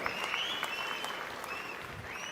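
Applause at a political meeting rises from a crowd as a steady, dense wash of clapping, fairly distant and soft, continuing without a break across the whole moment.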